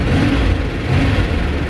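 A 1984 Pontiac Parisienne fifth-generation wagon's engine hums steadily at mid pitch while driving, a continuous close drone with road rumble and no pauses.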